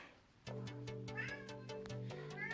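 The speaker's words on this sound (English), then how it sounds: "Sorry, that's my cat." A cat meows repeatedly up close, a series of short tonal calls in quick succession with no voices around.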